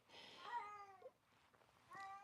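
A Siamese cat whining and meowing indoors: a long drawn-out meow, then a pause and another meow starting, close and clear with no talk.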